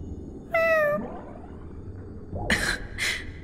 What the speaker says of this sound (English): Meow. Meow. Meow.